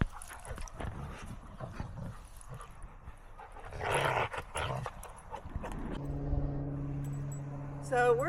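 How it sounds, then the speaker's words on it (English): Dogs playing together, with scuffling paws, panting, and short yelps and growls in bursts, then a steadier tone near the end, fairly close. "nothing wrong with the dogs having a great time playing."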